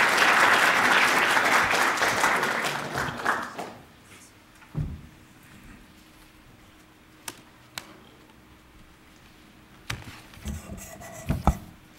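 Audience applause welcoming Governor Shabibi at a formal speaking event, a dense round of clapping that fades out after about four seconds, followed by quiet room sounds with a few isolated knocks and shuffles.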